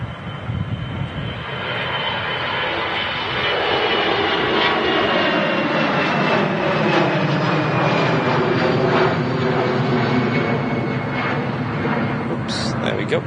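A Eurowings airliner departing Manchester Airport roars loudly and steadily, a broad engine rumble with a rising whine that holds throughout, close and powerful, with voices talking underneath.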